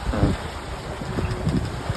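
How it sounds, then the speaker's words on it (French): Strong wind gusting across the microphone aboard a sailboat on the open ocean during a transatlantic passage from the Antilles to the Azores, with a steady roar and wash of sea underneath, no talking. "le vent est bien revenu, hein. Ça souffle pas mal"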